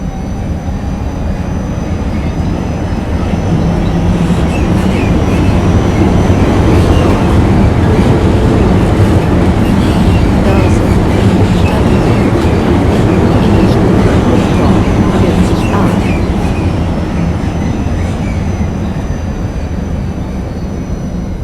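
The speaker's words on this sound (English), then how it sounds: "Do have another tram right behind me." A tram rolling along rails in the TramSim Vienna simulator game gives a loud, sustained rumble with faint rail clatter, swelling slightly midway and continuing unbroken for about twenty seconds without speech.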